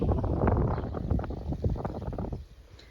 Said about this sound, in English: Darn wind, just fighting us at every turn.